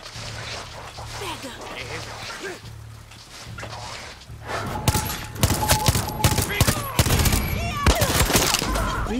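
Rapid automatic weapon fire in the video game Far Cry 6, dense bursts of sharp loud shots in the second half, preceded by quieter game ambience and background sound.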